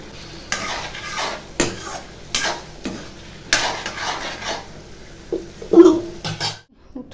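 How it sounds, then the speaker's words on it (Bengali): Prawns go into hot oil spiced with garlic, ginger, turmeric, cumin and chili powder, bringing several loud bursts of stirring and sizzling with clattering pan scrapes in between. "এখন চিংড়ি মাছটাও দিয়ে দিচ্ছি।"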